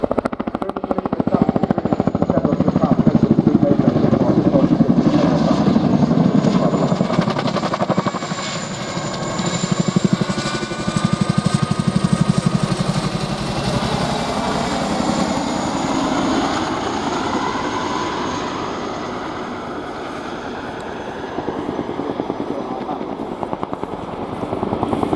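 A Chinook helicopter flies a display at the Royal International Air Tattoo air show. Its loud rotor roar runs continuously, with the pitch shifting slowly as it passes overhead.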